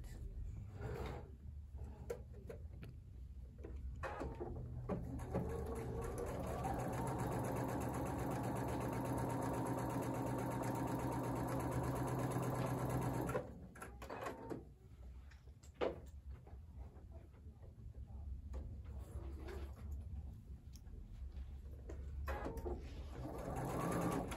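Quilt squares being stitched with quarter-inch seams on a home sewing machine, a steady whirring run of about ten seconds framed by quieter handling clicks, soft and fairly close.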